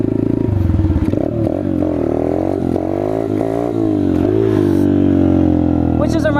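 A Chinese dirt bike engine held at steady high revs through a wheelie, with strong rising and falling harmonic engine tones, loud and close for several seconds and some rattling clatter.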